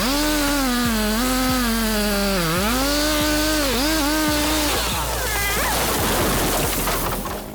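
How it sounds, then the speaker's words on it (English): A chainsaw cuts into a large oak tree during felling, its engine whining loud and close with pitch dips as the chain bogs into the wood, then the engine note fades into rougher cutting noise near the end. "With a sharp chainsaw and careful calculation, they removed the large oak tree easily"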